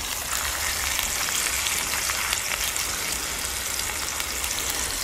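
Dried fish frying on a small portable stove outdoors in a forest produces a dense, even hiss and crackle, close and fairly loud, continuing without a break and with no speech.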